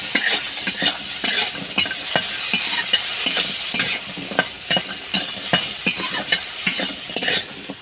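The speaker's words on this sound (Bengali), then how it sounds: "পরিমাণ মতো লবণ দিয়ে একটু ভেজে নেব।" Pieces of fish and taro fry in hot oil with turmeric and salt, sizzling steadily up close while a utensil stirs and scrapes the pan in repeated sharp strokes, with no talking.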